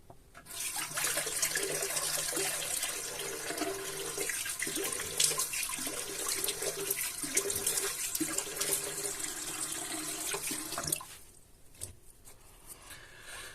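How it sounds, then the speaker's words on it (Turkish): Tap water runs steadily into a sink while someone washes their face, a close, even rushing stream that cuts off shortly before the end. "Bir yüzümü yıkayacağım."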